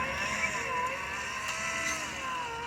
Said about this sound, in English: So this is the just the noise of the actual drive motor.